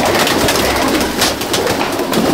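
Pigeons coo steadily in a loft, old Indian breeds such as red-veined Jachcha, Teddy, Golden, Kamagar and Dabwale birds, their throaty murmurs overlapping close by with no voices over them.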